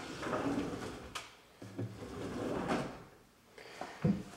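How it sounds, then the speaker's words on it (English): A pull-out hamper drawer in a downstairs bathroom slides open and shut, giving soft rolling scrapes and a couple of dull bumps, quiet and close with no talking. "This is a pull-out hamper."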